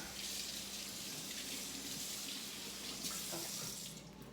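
Steady rush of running tap water splashing over butter lettuce leaves in a kitchen sink, a constant close hiss with light spattering and no talking.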